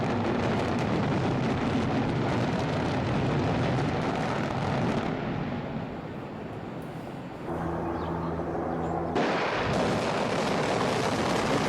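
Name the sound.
explosion demolishing a bridge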